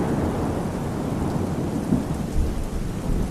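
Heavy rain pours with rolling thunder in an animated story, a dense, loud, continuous roar with deep rumbles and no voices.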